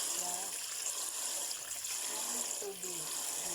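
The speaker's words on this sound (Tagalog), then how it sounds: "magugas ako ng rice at ibabad natin siya" Tap water running steadily while rice is washed in a pot, a moderate continuous gush with faint background voices.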